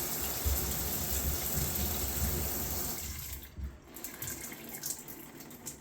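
Water gushes steadily from a faucet being flushed after a Price Pfister rebuild, a loud continuous rushing that drops off about halfway as the flow is cut, leaving faint drips and small noises.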